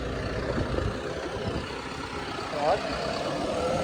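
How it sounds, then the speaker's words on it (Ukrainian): A John Deere tractor fitted with a front loader bucket runs with a steady, low engine rumble throughout, with a brief rise near the end, while a person talks over it. "Покажу вам, що може джондірчик з ковшиком"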